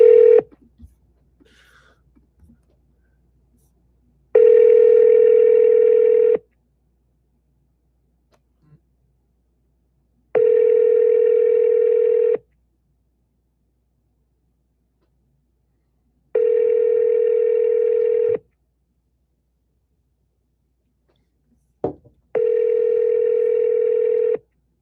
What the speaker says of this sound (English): I just want somebody to pick up the phone.